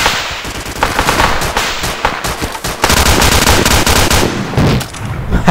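Loud, dense gunfire during a night firefight in the video game Arma 2, rapid machine-gun bursts and single shots overlapping in sustained volleys, no talk.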